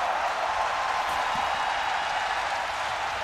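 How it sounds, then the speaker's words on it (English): An esports arena crowd at a Dota 2 major in Kuala Lumpur roars and applauds in a dense, continuous wash of noise that stays loud throughout. "Oh, the roar of the crowd."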